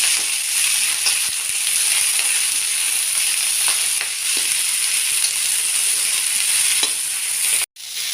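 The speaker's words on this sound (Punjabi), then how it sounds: "ਹੁਣ ਆਪਾਂ ਮੇਥੀ ਨੂੰ ਵੀ ਥੋੜੀ ਦੇਰ ਫਰਾਈ ਕਰਾਂਗੇ" Chopped fenugreek (methi) leaves fry in a hot pan with a steady, loud sizzle and hiss and occasional stirring scrapes, continuing alone with no talk.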